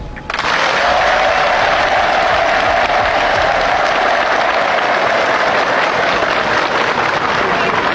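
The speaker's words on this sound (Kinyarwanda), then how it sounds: "nagira ngo mwongere mu amashyi" A large outdoor crowd at a Rwandan political rally bursts into sustained, loud applause that holds steady almost the whole time, with cheering voices mixed into the clapping.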